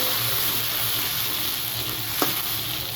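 Spice paste sizzles steadily in a hot frying pan for a potato, taro and egg curry, a loud, even hiss with a faint low hum and one brief sharp tick near the end, no talking.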